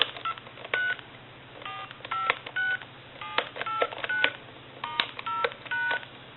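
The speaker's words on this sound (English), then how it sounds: "We'll dial our numbers out one more time" Touch-tone keypad on an AT&T 530 corded telephone dialing out a number, a quick series of clear beeping tones in short clusters over a faint steady hum.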